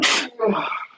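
A single sharp sneeze bursts out nearby, followed by a short muffled vocal trailing sound during a live chat setting.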